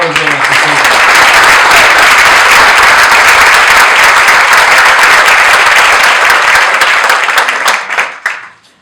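A crowd applauds award winners at a chamber of commerce awards evening, with loud, dense, sustained clapping that holds steady for several seconds before tapering off quickly at the end.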